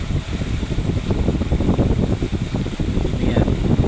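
A swimming pool filter pump backwashing makes a steady rushing, churning water noise with a constant mechanical hum, loud and close, like a pump forcing water through a pipe.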